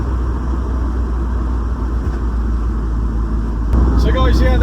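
A Nissan 350Z fitted with a bucket seat is being driven, heard from inside the cabin as a steady low engine and road drone, with a few sharp knocks near the end.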